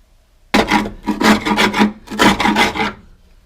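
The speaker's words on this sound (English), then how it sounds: "I'll scrape all this back and see if there's any more" Rust being scraped back by hand in the wheel well of a 1967 VW Beetle during restoration, several harsh rasping strokes in quick rhythmic bursts, close and loud after a short silence.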